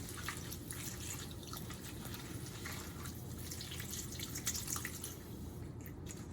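Cold water runs steadily from a tap into a sink, a constant splashing rush with small drips and no voices.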